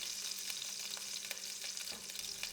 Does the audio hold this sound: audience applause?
no